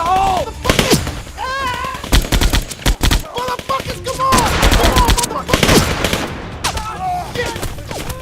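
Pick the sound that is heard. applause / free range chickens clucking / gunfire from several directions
gunfire from several directions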